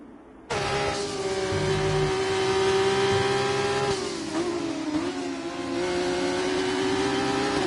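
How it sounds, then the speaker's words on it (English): A Red Bull race car in a racing video game at Qatar, its engine cutting in abruptly as a loud, steady high-pitched whine that holds near full power, dipping briefly once before surging on. "Nerf Pack defending for his life from that Red Bull car."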